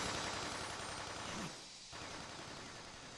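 Gunfire from the Fullmetal Alchemist: Brotherhood anime roars as a loud, dense, continuous barrage that briefly thins out midway and then resumes at full force.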